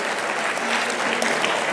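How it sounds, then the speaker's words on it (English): Applause from an audience at a national meeting and training conference industry awards ceremony, a steady, dense clatter of many hands clapping together, sustained and fairly loud throughout with no voices breaking through. "give another round of applause for New York"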